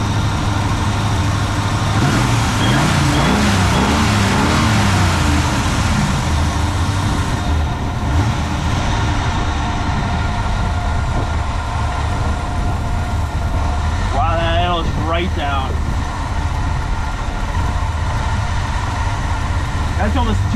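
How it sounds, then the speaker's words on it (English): An old carbureted engine with an electric choke idles steadily and loudly throughout, a constant low rumble, while someone talks over it. "Choke's working great. Yeah, I'd say we got a good running motor here."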